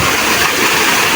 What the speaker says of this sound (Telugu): ఇక వాటర్ ఫాల్ నీళ్ళు ఇట్లా పై నుంచి ఎలా వస్తున్నాయో ఓ చూసారుగా